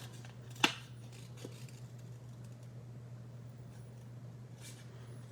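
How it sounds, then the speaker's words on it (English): Scissors make a single crisp snip through cardstock while a Stampin' Up! card is being made, heard close up over a low steady electrical hum, followed by faint handling noises. "And we're just gonna cut that right off."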